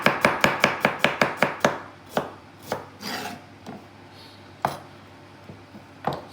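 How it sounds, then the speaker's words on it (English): A small vegetable knife chops vegetables thinly on a board, starting with a quick even run of close, crisp cuts, then slowing to a few spaced single chops. "So chop the veggies nice and thin."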